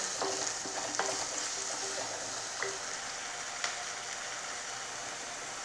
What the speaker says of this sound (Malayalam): അപ്പോൾ ഇത് നല്ലപോലെ ഒന്ന് നമ്മൾക്ക് വഴറ്റിയെടുക്കാം.